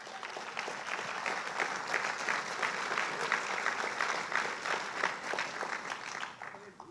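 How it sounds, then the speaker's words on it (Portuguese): Church congregation applauding during a sermon, a sustained, fairly distant round of clapping from a large crowd that tapers off at the end. "Aplauda Jesus, amém?"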